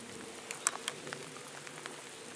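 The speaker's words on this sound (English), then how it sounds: "it is really starting to come down" Rain falling steadily on a wet hiking trail, a soft continuous patter with a few sharper drops hitting nearby surfaces, heard alone.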